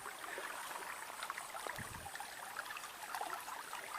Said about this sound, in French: c'est pas une rivière, c'est un ruisseau.